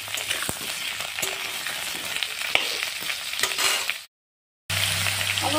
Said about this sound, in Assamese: আলুকেইটা তেলত অলপ ফ্ৰাই কৰি লৈ আছে।